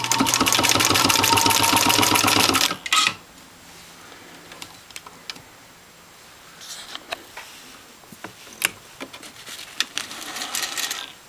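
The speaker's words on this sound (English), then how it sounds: "Same Singer 66 machine, sewing through about 6 rolled layers of 1000D" A motorized 1922 Singer 66 Red Eye antique single-stitch sewing machine stitches through about six rolled layers of 1000D nylon Cordura in a loud, fast, steady rattling burst, then stops, leaving scattered clicks and handling knocks close by.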